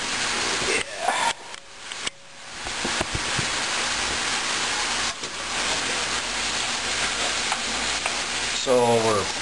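Italian sausage meat browning in a pan for chili, a steady loud sizzle and crackle with stirring scrapes and clatters throughout, close by, with a brief voice near the end.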